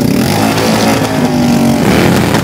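Motorcycles of the Night Wolves bikers club ride in a town carnival parade, engines droning steadily and loudly throughout the whole stretch with a continuous low rumble.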